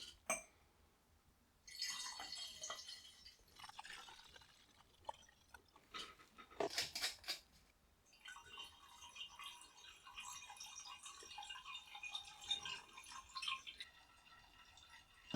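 Spiced pineapple soda strains through a muslin cloth into wine bottles as soft trickles and drips of liquid, with faint glassy clinks, coming in quiet close bursts with brief pauses between them.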